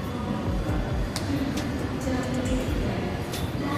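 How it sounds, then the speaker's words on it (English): A Mumbai Metro train rumbles steadily into a station, a low continuous roar with faint higher squeaks and rattles over it. "The train is coming."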